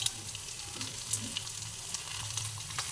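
Potatoes frying in hot oil for a jackfruit curry, giving a steady soft sizzle with faint crackles throughout, fairly quiet with no voices.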